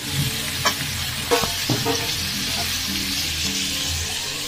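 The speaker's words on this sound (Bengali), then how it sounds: "এর মধ্যে পেঁয়াজ দিয়ে দিলাম।" Onions frying in a pan at the start of a chicken curry, a steady close sizzle with a few spatula stirs and scrapes, no talk.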